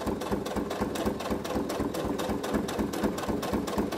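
Sewing machine stitching a coin purse seam half a centimetre from the edge, running as a steady fast close mechanical whir and patter, alone.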